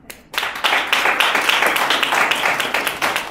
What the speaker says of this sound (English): You can applaud for her.